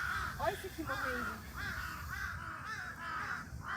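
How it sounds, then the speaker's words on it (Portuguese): Crows cawing repeatedly in Okinawa, Japan, with loud harsh caws overlapping nearby while people talk underneath. "Tem um monte de corvo"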